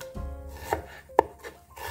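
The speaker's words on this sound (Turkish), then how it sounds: "Soğanlarımı da küçük küçük doğruyorum." A knife dicing onions into small cubes on a cutting board while making a Turkish fava meze, a few sharp, close chops spaced unevenly and heard alone.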